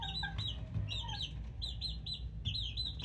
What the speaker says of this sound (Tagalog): Ito yung tatlong sisiw natin mga idol.